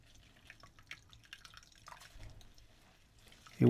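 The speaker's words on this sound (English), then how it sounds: "Once it's soaked, squeeze it out." Glue-soaked PVA material being squeezed out by hand, giving soft wet squelches and faint scattered drips close by, ending in a sudden louder thump.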